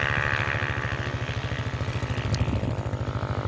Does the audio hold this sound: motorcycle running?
yes